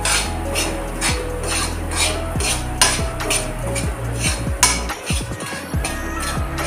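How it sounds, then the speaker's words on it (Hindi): Semolina stirred and roasted in ghee in a pan over a high gas flame for pineapple halwa: a close, steady rhythm of a spoon scraping and knocking against the metal pan, repeating about twice a second. "अब हम इसमें सूजी डाल देते हैं और इसको चलाते हुए गूंद लेंगे"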